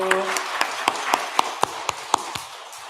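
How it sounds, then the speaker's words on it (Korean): A Korean church congregation breaks into applause during a Sunday morning service. The clapping is brief and uneven, with a few crisp claps standing out from a soft patter. "박수하겠습니다."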